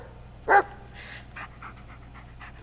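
A dog in the Blair Witch video game pants softly in short, breathy bursts after one sharp bark or yip, close and fairly quiet, with no talking.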